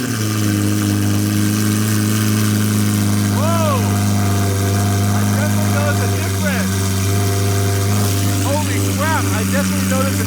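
V12 Lamborghini fitted with a straight pipe exhaust and tune, idling loudly up close with a deep steady drone and a few light blips, while people talk over it.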